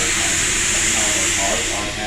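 Steam vents from the Southern 4501 steam locomotive, a loud, sustained, bright hiss that holds steady before easing slightly at the end.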